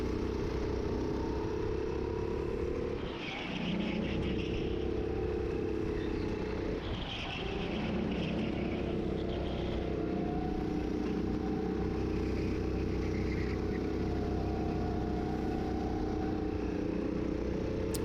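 Rental go-kart engines drone steadily throughout a race, with a mid-pitched buzz that shifts slightly in tone as the karts work through corners, loud and continuous with no voices over it.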